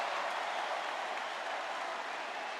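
A college football stadium crowd at a Boston College versus Clemson game roars loudly and continuously as a 4th and 1 play lines up, a dense, even wall of cheering with no gaps.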